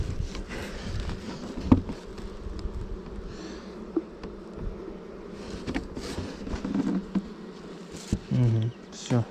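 Honeybees buzzing around an open hive during a mite check, a dense continuous drone close by with occasional bees passing near, and handling noises and brief knocks mixed in.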